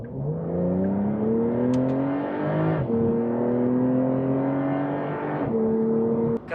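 A Porsche 911 Carrera engine revs hard in repeated rising pulls, each climbing sharply before dropping and surging again, loud and close with no talk.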